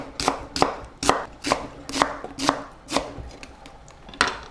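A knife slices a whole onion into julienne strips on a cutting board, with about nine crisp, evenly spaced chops landing close by in a steady rhythm and no talking.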